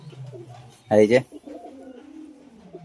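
A Royal Teddy pigeon gives one short, loud coo at close range, set among soft talk from a man nearby.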